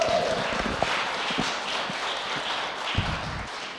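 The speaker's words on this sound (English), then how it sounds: "could we have a round of applause for yesterday's elections?" A small audience at a local Democrats club meeting claps, a soft, diffuse spatter of hands with a few sharper individual claps, heard at moderate distance and gradually thinning.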